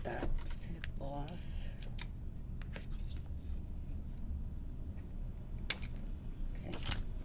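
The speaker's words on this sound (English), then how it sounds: "Now I'm gonna have to come in and cut that tip off." Scissors snip the tip off a jumbo specimen card with a few sharp, close cuts, followed by faint handling sounds and soft clicks in a quiet room.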